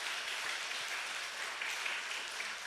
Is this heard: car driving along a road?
no